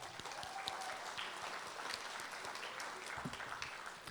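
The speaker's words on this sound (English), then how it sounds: "One more time, we give the 8th grade band a round of applause" Audience applause for an eighth grade middle school band at a spring concert, a steady wash of many hands clapping that holds at an even level for the whole stretch, fairly full and close.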